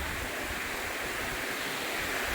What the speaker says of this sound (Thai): ลมก็ก่อนฝนตกลมก็พอสมควรเหมือนกันครับ ลมแรงครับ